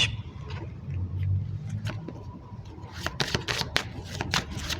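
A Lenormand card deck is handled and shuffled at a tarot-style reading table, with soft rustling and a run of crisp riffling snaps in the second half, fairly close and moderately quiet.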